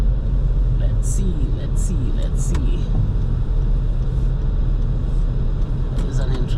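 A car rolls slowly into a parking lot, with a steady low engine and road rumble close inside the cabin and a few faint higher clicks, under someone talking.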